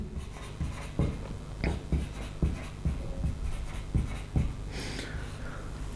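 Marker strokes on a board as the chemical formula CH2 is written out, a series of short, distinct taps and scratches close by in a quiet room, with no one speaking.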